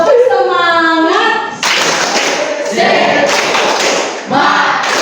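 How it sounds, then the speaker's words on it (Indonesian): Group of schoolchildren in a classroom doing a rhythmic clapping chant, loud and close, with a voice calling out before the claps and rapid patterned hand claps filling most of the span. "Tepuk semangat."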